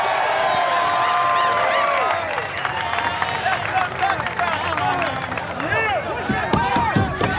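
A crowd cheers loudly at the American Ninja Warrior course during a 2010 qualifying round, a dense roar with rising whoops and shouts that swells near the end, while an announcer talks over it.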